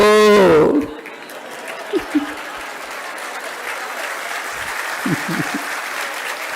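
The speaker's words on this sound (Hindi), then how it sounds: "अब ये सबसे ज्यादा तालियां बज गई।" Brief audience applause during a Jain sermon by Acharya Vidyasagar, a burst of clapping that rises after a short spoken phrase and continues steadily, with faint voices underneath.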